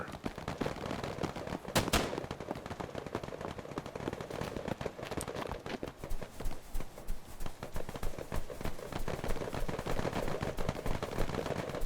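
Rapid bursts of gunfire from friendly fire in a military shooter game crackle continuously, with dense irregular shots and one sharper loud crack early on, no talking.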